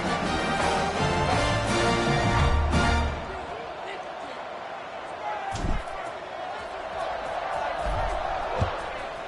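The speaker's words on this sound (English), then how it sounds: "this crowd is feeling themselves after that last drive." Football stadium crowd cheering and roaring at a Syracuse college game during a kickoff return, loud and dense at first, then settling into a steady crowd din with brief thumps.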